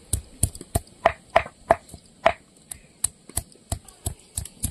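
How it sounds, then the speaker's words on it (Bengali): Garlic cloves being crushed with sharp repeated pounding on a hard surface, a run of about fifteen close, fairly loud knocks at an irregular pace. "রসুনগুলো থেতো করে নিচ্ছি।"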